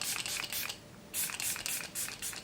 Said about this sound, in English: it's literally like you don't have a continuous spray, and it is more wet